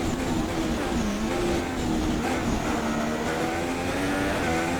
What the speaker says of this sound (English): I can just hear a McLaren behind me